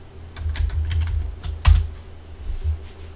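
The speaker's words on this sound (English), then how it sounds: "What if I type clear?" Fingers type a short command on a computer keyboard, a quick run of close, crisp key clicks with one firmer tap near the end, heard alone in a quiet room.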